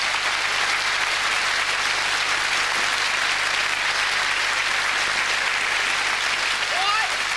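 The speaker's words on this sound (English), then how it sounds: "give her a round of applause" Studio audience applause on a TV comedy talk show, a loud, dense and steady wash of clapping that carries on unbroken from start to finish.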